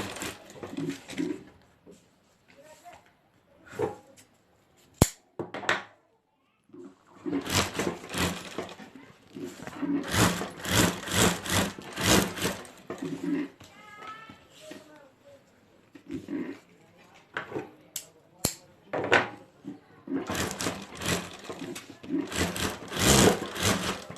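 A sewing machine stitching a handbag at home, with short and longer bursts of rapid mechanical whirring separated by pauses, fairly close and moderately loud.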